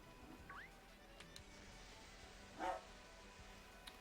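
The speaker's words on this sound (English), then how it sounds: "my dog is upstairs shouting around" A pet dog barks once, faint and muffled from upstairs, over quiet room hiss with a few small clicks.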